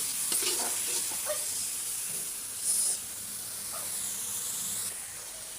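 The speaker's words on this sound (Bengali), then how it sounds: "আর এই তো বাটা মশলাগুলো কষিয়ে নিচ্ছি।" Ground spice paste, including cumin, sizzles in a pan while being stirred for a fish curry with bitter gourd and koi fish, a steady close hiss with soft scraping strokes and no talking.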